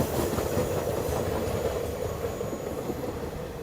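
A short three-coach Mangaluru Central–Subrahmanya Road passenger train runs on rails with a continuous low rumble and faint rhythmic wheel clatter, steady throughout and heard without voices.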